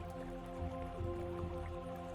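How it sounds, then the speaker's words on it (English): Quiet stream water in a forest setting of a video game: a faint, continuous trickle with soft drips and gurgles, steady and distant, with no voices. "And you should be able to hear the stream."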